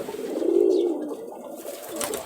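A black mushki Ghonobaji pigeon with a crested head coos in a Rajshahi loft, one close, soft, throaty coo rolling out, then fading into quiet.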